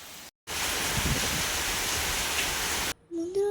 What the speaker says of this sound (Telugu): వర్షాకాలంలో వర్షం కురుస్తున్నప్పుడు అలాగే వర్షం కురిసిన తర్వాత రోజు